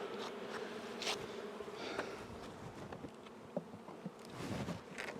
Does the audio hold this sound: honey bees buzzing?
yes